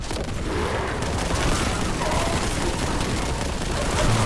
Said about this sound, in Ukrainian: Гранату туди. Гранату сюди.